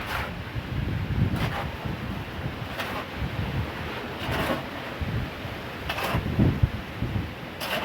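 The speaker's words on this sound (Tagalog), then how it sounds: "napakalakas ng hangin" Strong gusting wind outdoors in stormy weather, buffeting the microphone with low rumbling blasts that swell and fade repeatedly, no voices over it.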